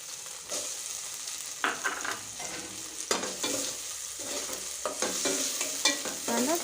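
Finely chopped onion sautéing in hot oil with ginger-garlic paste and cumin, a steady close sizzle broken by repeated scraping stirs of a spoon in the pan, with no talking.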